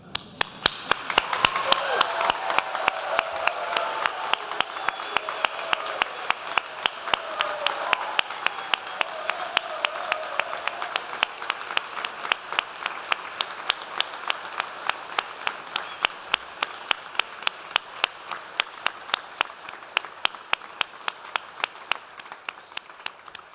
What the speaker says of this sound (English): Let's give them a final round of applause, loud enough for whole of Manchester to hear